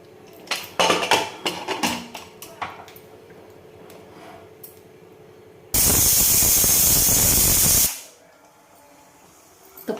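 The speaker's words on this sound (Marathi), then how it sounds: "कुकरचं आपण झाकण लावून चार ते पाच शिट्ट्या करून घेऊ" A pressure cooker with mutton for Hyderabadi dum biryani hisses a loud, sustained burst of steam for about two seconds, after a few light utensil clinks and before a quiet tail.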